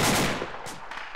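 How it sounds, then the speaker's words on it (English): AK rifle fire in the military game Arma, a brief rattle of a few rapid distant shots that fades out, then a sudden loud burst at the very end, with no talking. "I hear AK fire pretty close"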